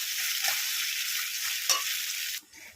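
Paneer manchurian being stir-fried in oil, a steady close sizzle with a couple of scraping stirs of a spoon, easing off sharply near the end.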